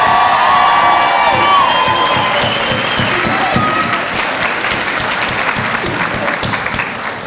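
Applause and cheering from an audience at a nursing aide, EMT and emergency dispatch graduation ceremony, a loud sustained roar of clapping with whoops and shouts that stays steady, easing only slightly toward the end.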